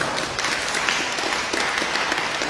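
Church gathering applauding the cooks, a brief burst of steady, fairly close clapping from a crowd, without talk.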